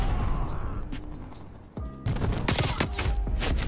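Submachine gun fire from an AK-74u in Call of Duty: Black Ops Cold War. Rapid bursts and sharp impacts ring loud and close over game background noise, starting softly and building into dense shots.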